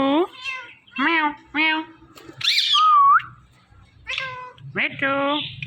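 Ringneck parrot imitating a cat's meow, several whistled and nasal meow-like calls close up, with a sliding whistle in the middle and short pauses between calls.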